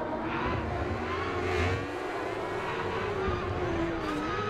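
An electric motorcycle with a single gear runs with a whining motor tone that rises and falls steadily, heard close under wind and road rumble.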